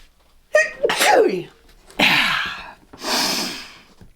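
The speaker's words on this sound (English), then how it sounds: "I'm about to sneeze." A woman crafting a miniature murder board lets out a sharp, close sneeze with a drawn-in breath before it, followed by breathy exhales and sighs as she recovers.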